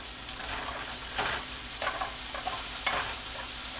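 Vegetables tossed with olive oil and salt in a pan give a steady background sizzle with a few scraping stirs rising above it, close-up and fairly quiet, with no talking.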